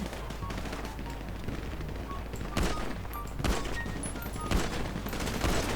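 Rapid gunfire rattles through a GTA V FiveM shootout, with a steady barrage of loud shots and several sharper, heavier cracks spaced through the burst.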